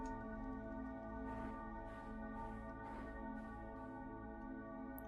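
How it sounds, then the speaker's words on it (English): Bells ring in the video game AER: Memories of Old, about five soft bright chimes spaced evenly over a sustained, layered musical drone, faint and without talk. "So somehow all ringing these bells melts ice."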